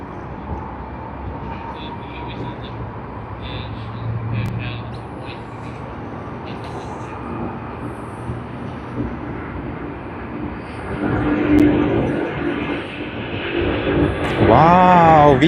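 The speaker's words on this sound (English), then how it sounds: "let's turn our attention to the A380 on its way to Seoul from Asiana Airlines" Asiana Airlines Airbus A380 taking off from Sydney Airport, a steady distant jet roar that builds louder toward the end.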